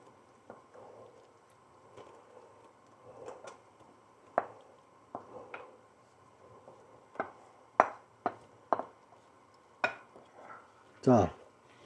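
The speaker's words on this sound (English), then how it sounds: "And we'll just stir that through" A spoon stirs tuna chunks into a thickened sauce in a pan: sparse, quiet clinks and scrapes of metal on the pan at irregular intervals, with soft gaps between them.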